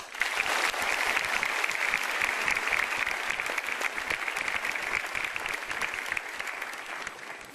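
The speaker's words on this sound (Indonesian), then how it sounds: "Mari kita sambut dengan tepuk tangan yang meriah" A studio audience on an Indonesian talk show claps loudly and continuously, a thick, even wall of applause that welcomes guests and barely varies in intensity from start to finish.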